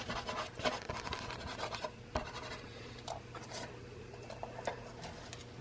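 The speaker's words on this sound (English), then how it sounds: "I'm letting the pastel kind of do its thing and dance across the paper." Blue Earth pastel scribbling across paper, close dry scratching strokes in quick irregular bursts, some sharper marks standing out, with no talk.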